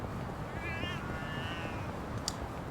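Angry cat in Yakuza: Like a Dragon giving a drawn-out, wavering meow and a second fainter yowl, over constant background game ambience, followed by a brief click.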